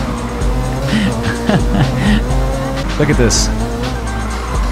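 In the NFS Heat racing game, a car with traction control off slides out of control, its tires squealing in repeated wavering bursts over a loud engine roar, while someone talks over it.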